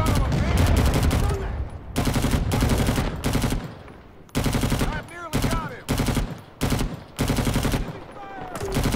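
M60 machine gun in Rising Storm 2 on the Cu Chi map, loud sustained automatic bursts cut by short pauses, with rapid repeated fire dominating throughout.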